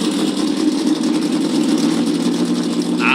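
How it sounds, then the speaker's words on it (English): Thirty-two race car engines firing up on pit road before the Dixie Vodka 400, a loud, continuous massed engine roar with a mid-pitched rumble, and a brief rising rev near the end. "That sounds like 32 engines that have come to life down on pit road"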